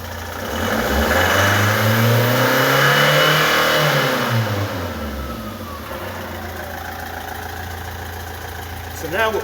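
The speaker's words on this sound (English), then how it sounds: "We're going to give it a rev." A Vauxhall Zafira 1.7 diesel with a low boost pressure fault revs up strongly, holds high, then falls back to a steady idle, loud and close with the rise and fall of the engine clearly heard.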